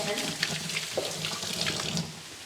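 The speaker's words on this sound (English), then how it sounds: "Okay, I touched this again, so wash my hands again." A kitchen tap runs in a steady, close rush of water while hands are washed under it, with small splashes and clatters breaking through.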